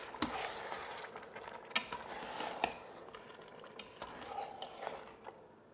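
Faint scraping and clinking of a utensil stirring Greek chicken stew in an Instant Pot, with irregular soft knocks against the sides.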